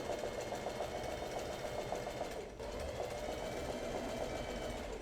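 A sewing machine runs steadily up close doing free motion embroidery stitching on an Art Nouveau flower, a fast even whirring hum with a brief dip midway; no talk.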